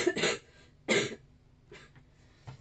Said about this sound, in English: I'm having a bad cough here